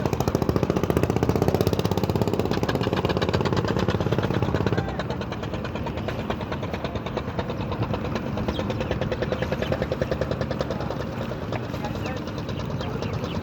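A motor-driven sampan boat crosses the river at Sadarghat, its engine chugging steadily and loudly close by throughout, with a rhythmic knocking pulse and the tone shifting partway through.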